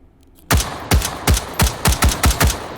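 Eight sharp, loud shots from an M4 rifle with its carry handle fitted, fired one at a time at a steady semi-automatic pace in the VR shooter H3VR, each crack ringing off briefly, with no talking.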